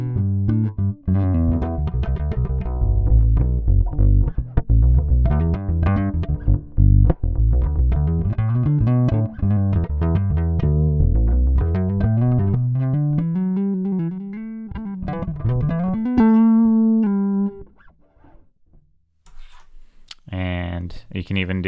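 Short scale bass guitar played fingerstyle, a run of plucked low notes with steady funky rhythm, loud and close, with slides and sustained notes before a pause and a few final plucks.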